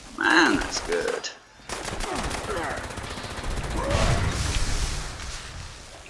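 The Helga weapon in Fallout 76 fires in dense, rapid bursts of loud gunfire that run almost without pause, briefly breaking once, with a voice speaking over the shots.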